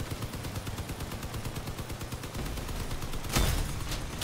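A big cannon fires in the Crossout vehicle combat game: rapid repeated gunfire pulses keep up steadily, then a heavier, louder blast lands near the end.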